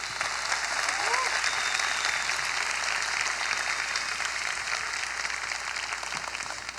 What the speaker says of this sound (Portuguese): Então eu queria pedir uma salva de palmas para todo mundo da RD.